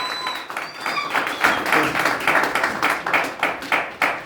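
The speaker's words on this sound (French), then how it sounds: "Je demande encore de faire un grand tonnerre d'applaudissements pour Sylvain Obam." A crowd at a Gabonese political gathering applauds for candidate Sylvain Obam, a short burst of moderately loud, uneven clapping in rolling waves with no talk over it.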